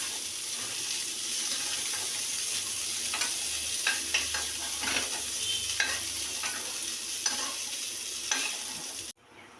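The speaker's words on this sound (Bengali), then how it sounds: "ওই তেলেই মাছের তেলে আমরা একটু জিরে ফোড়ন দিই একটা শুকনো তেলে ফাটিয়ে দিলাম" Cumin seeds crackling in hot oil left from frying katla fish, a steady close sizzle with scattered sharp pops and stirring scrapes, continuing for several seconds before stopping abruptly.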